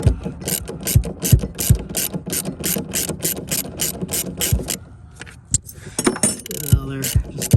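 Ratchet wrench undoing 10 mm bolts on the stock connectors of a 2005 Mini Cooper S, giving rapid, regular clicking bursts up close, with a pause and then some metallic handling and a few more clicks.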